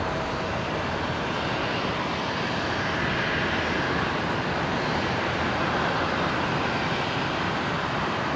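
An airliner departing Brisbane International Airport produces a constant, loud broadband engine roar that holds steady without a break.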